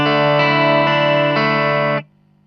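An electric guitar run through the reverb of a BOSS GX-1 multi-effects unit holds a thick, sustained chord for about two seconds. It then cuts off sharply, leaving a faint lingering tail.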